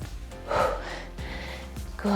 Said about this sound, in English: Keep breathing now. Let's hear those breaths in and out.